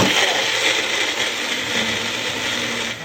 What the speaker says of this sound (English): So here I have my magic bullet. Give that a good mix in there.